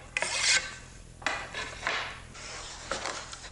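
Pencil or marker drawing lines across pallet wood slats, heard as a few short scratchy strokes, close up and fairly quiet, with pauses between them and no talking.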